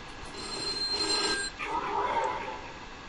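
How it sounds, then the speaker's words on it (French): A telephone ringing inside a horror-style pizza delivery video game, a shrill electronic bell tone repeating over a continuous low background hum, moderately loud, with no clear talk. "Il y a le téléphone."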